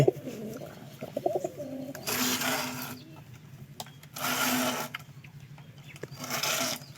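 Pigeons coo close by in a loft, a few soft throaty calls early on followed by three longer rolling bursts spaced a couple of seconds apart, with faint wooden knocks in between.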